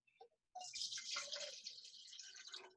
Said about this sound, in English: I'm gonna go ahead and use our handy measuring cup here to tell you how many drinks you've poured yourself